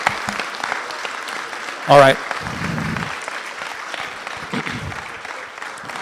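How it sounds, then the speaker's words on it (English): An audience at a community meeting on the closing of a library food pantry applauds for city and state officials. The clapping is steady and moderate, and a voice speaks briefly over it. "A round of applause for our public officials from city and state."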